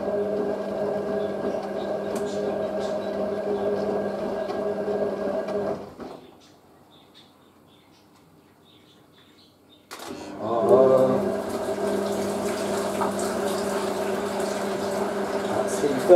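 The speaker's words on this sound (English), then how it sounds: "That's the third and final rinse in the spin." A Hotpoint 9530 Electronic 1000 Plus washing machine running its final rinse and spin, giving a steady, close mechanical hum that drops out for about four seconds, then resumes, briefly louder.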